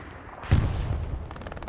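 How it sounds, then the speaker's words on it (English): Polish artillery fire in a video game booms once with a heavy, close blast that rumbles and decays, followed by a rapid rattle of smaller shots. "I think that's Polish artillery partially also"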